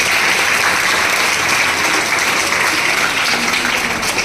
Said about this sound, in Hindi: तो जोरदार तालियां सारे टीचर्स के लिए